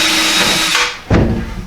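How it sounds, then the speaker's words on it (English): A power drill whines loudly as it drives a screw into a wooden wall stud. The motor runs steadily, dips briefly, then revs up again, close and sustained. "When I drill this through, I'm only going into the wood, not into the drywall."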